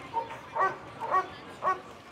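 A police dog gives four short, sharp barks spaced roughly half a second apart, moderately close, against faint background noise.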